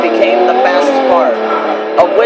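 A 2012 Pagani Huayra in Forza Motorsport 6 holds a loud, high-pitched engine whine that rises and falls as it revs, with someone talking over it.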